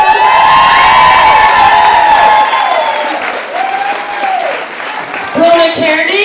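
Audience applauding and cheering for performers at a school celebration, loud sustained clapping with whoops and children's shouts, and a voice speaking over the crowd toward the end.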